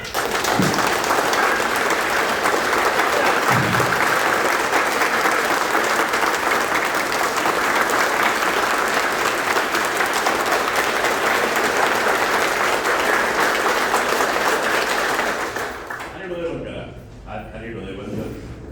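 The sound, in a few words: audience clapping loudly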